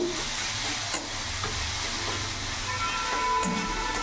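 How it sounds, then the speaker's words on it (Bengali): Fenugreek leaves and potato stirred and fried together, a continuous soft sizzle with light scraping of the spatula and an occasional tap, no voices. "এইভাবে নাড়াচাড়া করে কিছুক্ষণ ভেজে নেবো"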